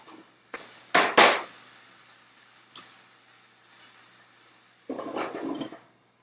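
Onions being stirred in a cooking pot: two loud scraping clanks near the start, a few faint taps, then a longer stretch of stirring and scraping toward the end, with no talk.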